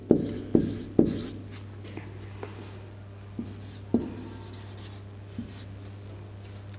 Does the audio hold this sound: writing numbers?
yes